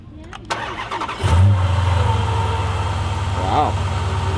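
A supercharged Dodge Challenger engine cranks and catches, then settles into a loud, steady idle close by, with voices briefly heard over it.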